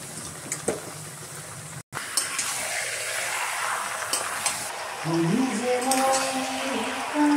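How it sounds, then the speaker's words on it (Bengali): Meat being fried and stirred in a pan with ground spices, coriander and cumin, a continuous close sizzle with scraping stirs, a brief cut in the middle and a faint hum toward the end. "মাংসটা ভালো করে অনেকক্ষণ কষাতে হবে"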